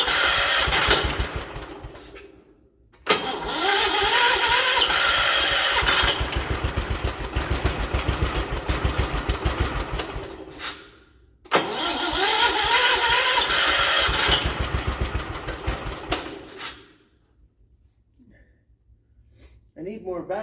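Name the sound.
1979 John Deere 216 lawn tractor engine running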